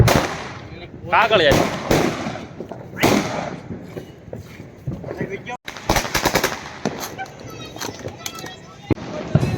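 Rapid strings of firecrackers crackle in loud, machine-gun-like bursts, with people shouting and talking in between, during Diwali celebrations in Savarkundla, Gujarat.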